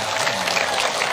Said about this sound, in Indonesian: Tepuk tangan untuk NU dan Muhammadiyah